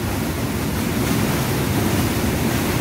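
Strong water rushes loudly and steadily below a waterfall, a continuous close roar of broadband spray and churn with no voices.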